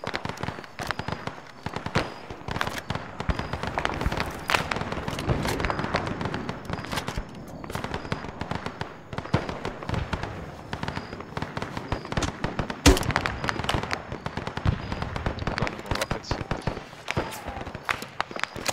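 Gunfire in the military game ArmA during the defense of a camp: dense, continuous bursts of sharp cracks and rattles fill the scene, with one especially loud close shot partway through.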